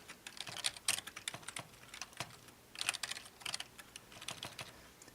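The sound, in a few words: typing code on a computer keyboard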